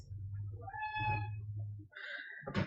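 An indoor domestic cat meows close by, giving two drawn-out meows in a row with no speech over them.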